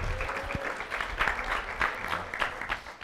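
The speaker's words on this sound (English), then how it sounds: "A round of applause, please." Applause from an audience at a talk on digital influence and participatory democracy, a fairly quiet, continuous patter of many hands with a few louder swells throughout.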